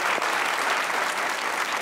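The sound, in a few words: studio audience applause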